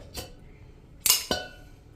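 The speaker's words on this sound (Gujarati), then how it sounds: "તો જો હવે આને હું એક વાટકામાં રાખી દઉં છું." Freshly made paneer set into a bowl: a soft knock followed by two sharp clinks of the bowl near the end, close and otherwise quiet.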